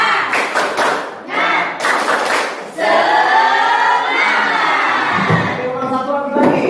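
A classroom of students performs rhythmic 'tepuk semangat' spirit clapping in loud bursts of claps and thumps, mixed with crowd voices and shouting that carry on after the clapping stops.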